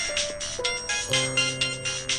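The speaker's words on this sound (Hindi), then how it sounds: "कमरे के अंदर से अर्पित का फ़ोन बजा" A mobile phone rings indoors from another room, a steady electronic ringtone with repeating melodic tones and rhythmic pulses, loud and continuous with no voices.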